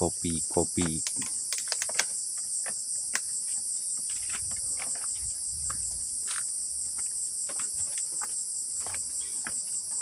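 Steady high-pitched cricket chirping fills the scene on a mountain trail through coffee gardens, dense and continuous, with a few soft clicks and faint low rustles underneath.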